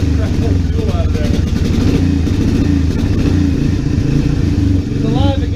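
A small engine from a 300, just fitted with a new Chinese carburetor, runs close by with a steady, rapid, throbbing putter as it warms up, burning off old fuel and holding an even idle.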